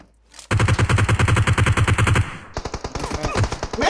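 Automatic weapons fire in PUBG Mobile: a loud, fast burst of evenly spaced shots, then a brief pause and another rapid volley with sharp echoing cracks.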